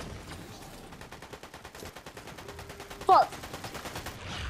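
Fortnite gunfire: a steady, quiet run of rapid shots ticking along for several seconds, with a brief loud exclamation from a player partway through.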